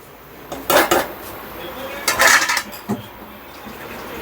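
A metal lid is set onto a pot of chicken curry in a home kitchen, giving a couple of clattering clanks close by, followed by a few lighter metallic knocks.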